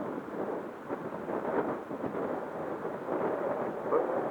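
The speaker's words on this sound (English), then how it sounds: "it's getting a bit windy for this sort of flying" Gusty wind buffets a microphone outdoors at a field where a small RC plane is being flown, a continuous rough, low rumbling roar that swells and dips without pause.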